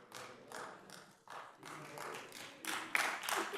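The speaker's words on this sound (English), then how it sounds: "We would ask you to hold your applause again" An audience at a city council meeting claps in several uneven bursts that swell and fade, with light taps and a few louder claps near the end.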